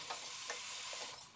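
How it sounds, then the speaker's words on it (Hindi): Potato and cabbage curry sizzles in a pan while a spoon stirs it, with soft scraping strokes over a steady frying hiss. "चलाते हुए थोड़ा भून लिया।"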